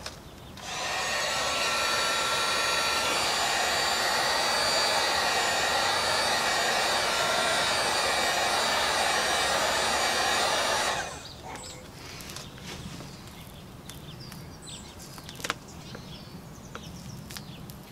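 A heat gun blows with a loud, steady hiss for about ten seconds while heating acoustic treatment material on a car's rear door, then switches off, leaving a quiet room with faint handling noises.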